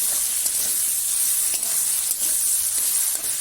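Steady sizzling hiss of chopped tomato frying in oil with masala as it is sautéed for an aloo gobi capsicum curry, a continuous bright crackle with faint occasional spoon scrapes, close and without talk.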